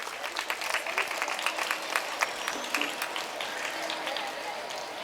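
An audience at a St Francis School annual day claps for the teachers, a steady ripple of many hands at moderate distance, with a voice speaking faintly underneath.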